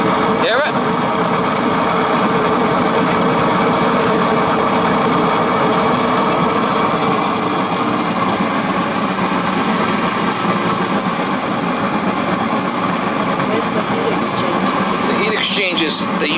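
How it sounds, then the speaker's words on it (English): A steady, rumbling gas furnace burner roar runs throughout, with an uneven fluttering flame caused by a cracked heat exchanger once the fan runs, loud and close, with faint talk near the end. "When the fan kicked on, now the flame's acting up"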